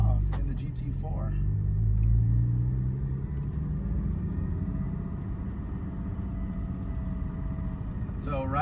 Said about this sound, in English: now we're gonna go ahead and take off in the GT4